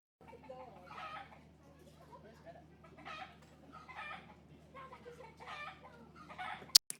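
Barnyard ambience with chickens clucking and a rooster crowing, fowl calls rising in bursts over a low steady farm background, moderately faint, ending with a sharp click.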